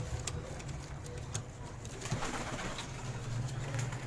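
A large flock of high-flying pigeons in a Karachi loft coos in a low, steady, overlapping murmur, fairly quiet, with scattered faint flutters and clicks and no speech.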